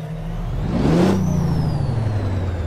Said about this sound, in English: The only thing that I'm using that's a mod is the engine sound by Rabbinicus. It's the X15.